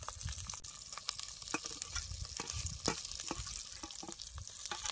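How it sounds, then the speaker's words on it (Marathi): Ground masala paste, stone-ground, crackles and sizzles in hot oil for a spicy fish curry, a dense close spatter with frequent sharp pops and stirring, no voices. "सौदा बी तेलात असं चांगलं भाजून घ्यायचं."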